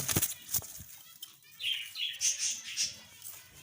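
Breeding pigeons in an aviary shuffle about and beat their wings in several short flurries. The flapping is close and fairly loud, with faint chirps from the young birds mixed in.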